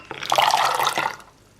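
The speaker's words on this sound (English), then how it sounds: "What we're gonna do first is we're gonna soak the almonds in the hot water" Hot water pours into a bowl of almonds in a home kitchen, a steady splashing stream lasting about a second before tapering off into quiet, close and clear.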